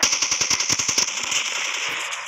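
Rapid automatic gunfire from the Call of Duty video game, a loud burst of evenly spaced shots for about a second, followed by a sustained ringing, hissing tail.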